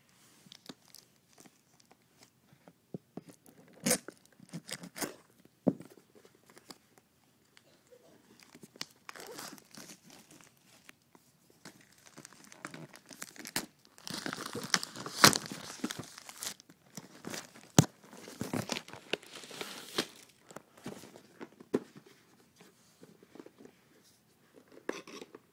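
Paper packing from a ViewSonic G Tablet box is unwrapped by hand, giving irregular close crinkling and tearing rustles in scattered bursts, with brief pauses between handfuls and no speech.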